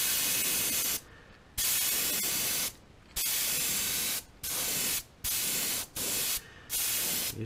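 Spray paint hissing onto a bluegill crankbait fishing lure, a series of close, steady bursts of varying length separated by short gaps, no voices.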